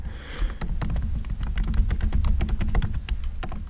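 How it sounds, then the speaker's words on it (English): Rapid, close clatter of keys as text is typed on a computer keyboard, a dense run of crisp clicks and taps with no voice over them. "So let's type that in."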